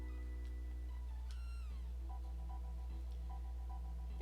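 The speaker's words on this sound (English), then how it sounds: "Kitty!" A cat meows once in the Chrono Trigger video game, a short rising-then-falling synthesized cry over a steady low hum and quiet game tones.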